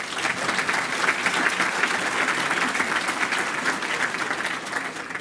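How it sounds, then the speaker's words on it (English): A loud, full round of applause from an audience at a county State of the County address, steady dense clapping sustained throughout without any voices on top. "I'd like everybody to give Randy a round of applause for that."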